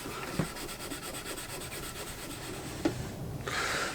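A corner of a Bush DAC 10 Bakelite radio case is rubbed with abrasive paste polishing compound number 5, giving a quiet, continuous scrubbing rasp close by, with a couple of brief knocks.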